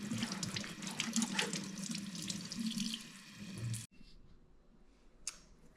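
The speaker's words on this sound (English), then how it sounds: "then you rinse off the shoes" Hiking boots are rinsed under a running sink tap, a close, steady gush of water splashing over them for several seconds before the flow stops abruptly, leaving faint drips and small sounds.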